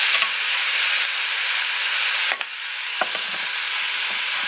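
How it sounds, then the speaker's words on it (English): Burger ingredients sauté in a hot pan with a steady, close sizzle and hiss, broken by a few brief stirring scrapes and clicks. "kind of saute that for a few minutes"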